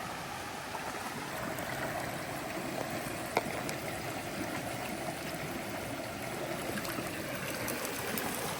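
Steady rush of flowing water from a nearby stream on the Appalachian Trail, even and continuous, with one faint click partway through.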